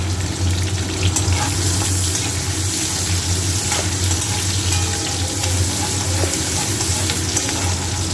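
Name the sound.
onions frying in a pan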